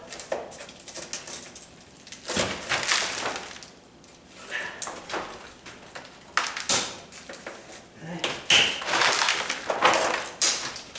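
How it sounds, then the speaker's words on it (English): A stiff, worn putty knife scrapes grout from a tile countertop in bursts of harsh, gritty scratching and crunching up close, with short pauses between strokes. "I'm just using my crummy putty knife. It's a stiff putty knife."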